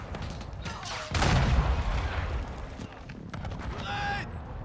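Automatic gunfire from a Modern Warfare 2 multiplayer match, a loud burst of shots under battle noise with in-game voices calling out over it.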